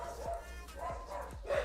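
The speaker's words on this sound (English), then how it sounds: "he's making too much noise with the barking" A dog barks repeatedly as the postman arrives, with a few short yips and woofs at moderate distance, mixed with background murmur.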